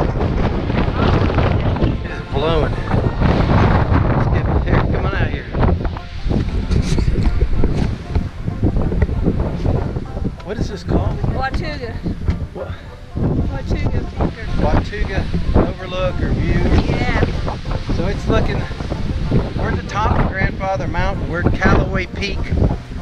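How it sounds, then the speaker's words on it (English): Strong wind gusts roar steadily across the microphone on an exposed mountain trail near a peak, buffeting loudly throughout while someone talks over it. "You see this wind? OMG! Hang on to your hats, man."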